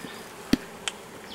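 Honey bees hum faintly on a hive frame during a close inspection, a soft buzzing bed broken by two sharp clicks or taps in a brief moment without speech.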